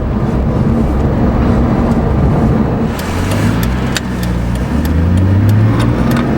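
Imola Red 2003 BMW 330i ZHP with cloth interior driving, engine droning steadily from inside the cabin with a rising note in the second half as the car accelerates, plus wind and road noise throughout.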